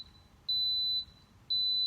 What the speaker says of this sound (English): you wait for the 3 beeps, and the 3 beeps indicate that the machine is starting